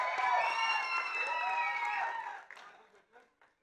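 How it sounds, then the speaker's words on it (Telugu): An audience at a Satyabhama movie event claps and cheers with whistles and whoops, loud and sustained for about two seconds before fading into a few scattered claps. "కాజల్ అగర్వాల్కి ఒక్కసారి గట్టిగా చప్పట్లు."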